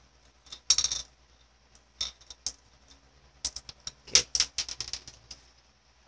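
Dice for the One Deck Dungeon board game roll with several bursts of sharp clattering and rattling, close and fairly loud, separated by short quiet gaps.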